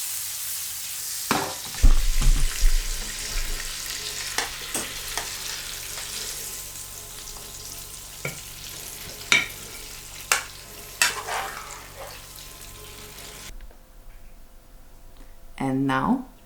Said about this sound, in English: we're gonna add in our lemon juice. The lemon is gonna stop the cooking of the butter.